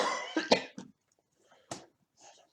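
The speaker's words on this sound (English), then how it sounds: "Sorry, coughing." A person coughs close to the microphone, a cluster of rough coughs followed after a pause by one more sharp cough and a faint throat sound, with no talk.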